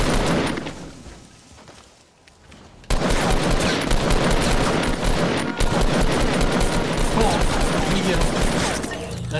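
Sustained rapid gunfire from the Fortnite Battle Royale video game, loud and dense, with a brief lull before a near-continuous barrage of shots resumes and carries to the end.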